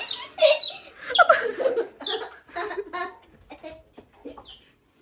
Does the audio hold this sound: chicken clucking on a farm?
yes